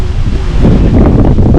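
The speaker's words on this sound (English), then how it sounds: "it's kind of windy here this afternoon," Gusty afternoon wind blows through an East Indian mango tree, a loud, steady broadband rush with rustling surges and no voices.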